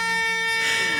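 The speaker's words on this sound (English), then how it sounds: "because of the air horn, you know?" A loud, steady air horn blares with a sustained tonal blast lasting about a second.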